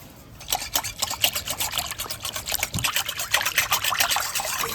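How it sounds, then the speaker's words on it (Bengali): Ground sago is stirred into water in a bowl, making a close, continuous wet sloshing and swishing with rapid rhythmic pulses, heard alone without any talk. "ভালো করে সাবুদানার সাথে জলটা মিক্স করে দিয়েছি"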